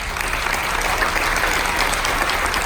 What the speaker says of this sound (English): How about another big round of applause for our Army, everybody?